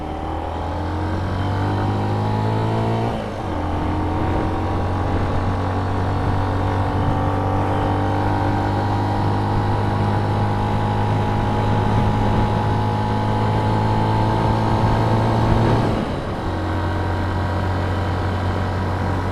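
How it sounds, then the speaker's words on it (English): A Benelli 125 BN motorcycle's small single-cylinder exhaust drones steadily at cruising speed, pitch rising and shifting through gear changes, with a clear drop near the start and another later, loud and continuous with no talk. "A nice little tone to the exhaust."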